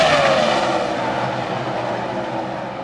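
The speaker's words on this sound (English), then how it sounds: "These guys are really drifting up the racetrack." NASCAR race cars at Texas Motor Speedway in the 2005 fall race roar past, a loud engine drone with a falling pitch as the cars sweep by and fade slightly.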